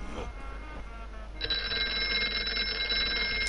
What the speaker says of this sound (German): Wo ist hier ein Telefon?